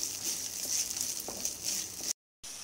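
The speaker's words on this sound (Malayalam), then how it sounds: "ഇനി എല്ലാം കൂടി നന്നായിട്ട് വഴറ്റുക." Green chillies and onions sautéing in a pan for Kuttanadan-style karimeen (pearl spot fish) mappas make a steady, close hiss of frying, which cuts out briefly near the end before resuming.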